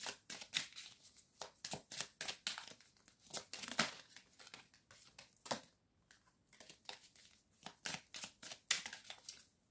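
Tarot cards are handled and drawn one by one, a close series of dry crinkly flicks and snaps with brief pauses between bursts.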